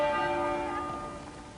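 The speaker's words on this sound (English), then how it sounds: "Each minute, Westminster Abbey's bell would toll." A single stroke of the Westminster Abbey bell tolls, ringing with a clear, rich tone that slowly fades through the whole moment.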